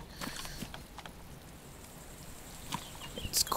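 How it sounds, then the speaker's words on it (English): Rain falling in the video game DayZ, a soft continuous patter with scattered sharper drops close by, steady and fairly faint with no talk. "It's starting to rain."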